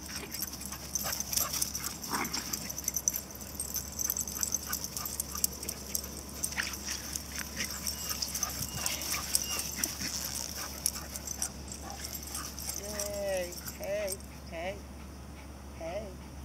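A Rat Terrier mix and a Pit Bull Terrier whimper and yip softly now and then while playing in a dog park, with some shuffling movement and faint voices in the background; higher whines near the end.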